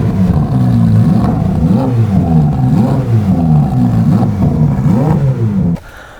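Carbon Ferrari F8 N-Largo with a Novitec exhaust revving loudly and close, the engine note rising and falling in repeated throttle blips before cutting off abruptly near the end.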